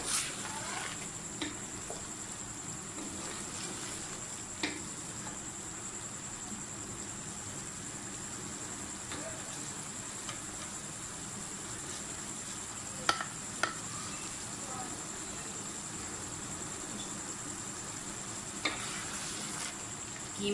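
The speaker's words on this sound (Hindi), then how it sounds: "कीमा आलू जो है वो हमारा तकरीबन तैयार हो गया है। इसकी अच्छी तरह से बुनाई कर लें।" Keema and potatoes sauté in a pan while being stirred, giving a faint, steady sizzle with a few sharp scraping clicks scattered throughout.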